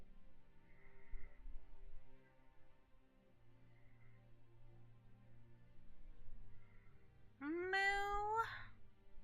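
A domestic cat indoors lets out one loud, drawn-out meow near the end, after a stretch of quiet room tone and faint background sounds.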